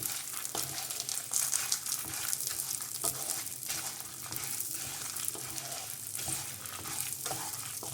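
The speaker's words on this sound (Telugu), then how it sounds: "మీడియం ఫ్లేమ్ మీద దోరగా గోల్డెన్ బ్రౌన్ కలర్ వచ్చే వరకు మనం వీటిని ఫ్రై చేసుకోవాలన్నమాట" Dry red chillies roasting over a medium flame in a pan for homemade sambar powder, a steady crackling sizzle with soft scraping stirs running continuously, close and fairly loud, with no voices.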